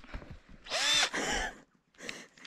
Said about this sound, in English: give me the drill